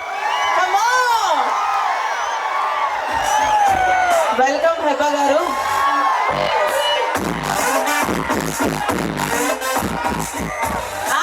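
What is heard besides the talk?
crowd clapping and cheering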